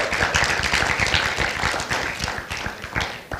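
A church congregation at a live student worship service claps together in a steady, dense burst of applause, loud and close, with no talking.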